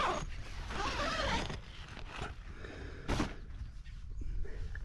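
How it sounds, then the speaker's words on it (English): The zip on a lightweight Geertop three-hoop bivvy tent with taped seams is pulled open in loud, raspy sweeps, with rustling fabric handled close by in between. "Where did the zip go? There's the zip."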